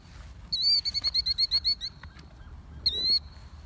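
A bird, likely a fowl, gives a rapid run of sharp, nasal honking calls, then a pause and one more longer call, loud and close over a quiet background.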